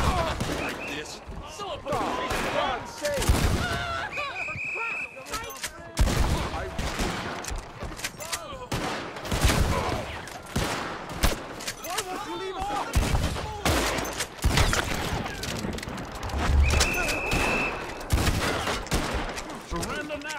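Pump-action shotgun blasts and other gunfire erupt in bursts during a Red Dead Redemption 2 firefight, sharp reports scattered irregularly across the scene while in-game characters shout and talk between and over the shots.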